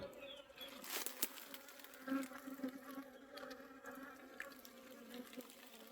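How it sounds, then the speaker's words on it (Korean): Bees from a wild mountain colony buzz steadily as they fly in and out of a hive, a continuous insect hum with brief louder passes of nearby bees, heard alone without talk. "여기도 벌이 많이 왔다 갔다 하고요."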